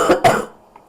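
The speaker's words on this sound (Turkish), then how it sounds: "Elim tutabileceğim bir şey değil bu öksürük." A man coughs twice in sharp, close bursts, followed by a brief faint throat sound, with no talking.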